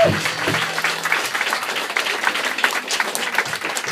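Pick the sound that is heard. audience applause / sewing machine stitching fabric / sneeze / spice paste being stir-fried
audience applause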